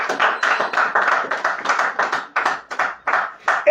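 Congregation at a church service clapping in rhythm to acclaim the Lord, a run of close, loud hand claps in a regular beat with no talking.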